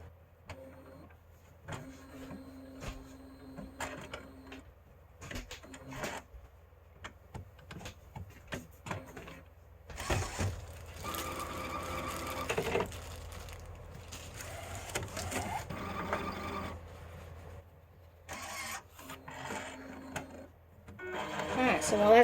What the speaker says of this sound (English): we're going to go ahead and turn on our printer